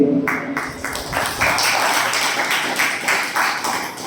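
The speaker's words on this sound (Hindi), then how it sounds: "जोरदार ताली स्वागत के लिए।" Loud applause from an audience welcoming a guest at a Jain religious gathering, a dense steady wash of clapping running for several seconds with a brief dip near the start.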